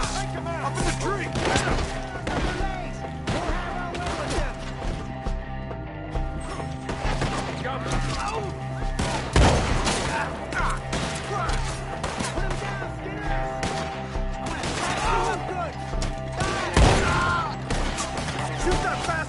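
Gunfights in Red Dead Redemption: repeated sharp shots and crashing impacts over a dense, busy soundscape, with a couple of louder, closer blasts standing out, while players shout over the action.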